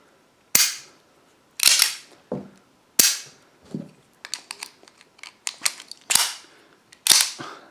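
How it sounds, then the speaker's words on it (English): A Beretta Model 1934 pistol being handled, with a series of sharp metallic clacks and snaps from the slide and magazine, several distinct loud hits among lighter clicks, close up. "as soon as you take the magazine out, the slide just snaps forward"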